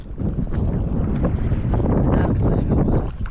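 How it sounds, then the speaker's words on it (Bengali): Cold wind blowing across a river in the Sundarbans, buffeting the microphone in a steady low roar that rises and falls slightly, loud and close, no talk. "হাওয়া ছাড়েছে আর ঠান্ডা হাওয়া বৃষ্টি হওয়ার লক্ষণ তো আমি পাচ্ছি মনে হচ্ছে হাওয়া পুরো একদম ঠান্ডা"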